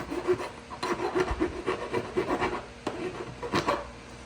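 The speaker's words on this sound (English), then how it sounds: "So I just take a rasp" A rasp files burrs off the cut end of a metal lamp pipe in quick, uneven back-and-forth strokes, a close, raspy scraping with short gaps between passes.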